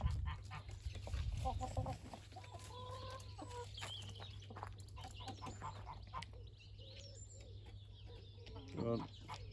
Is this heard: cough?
no